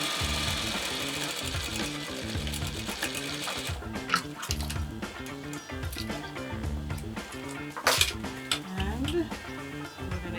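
Sewing machine back-stitching a quarter-inch French seam on a scrub bag, a steady close mechanical whirr with rapid needle chatter running throughout, pausing briefly near the middle, with a few sharper clicks.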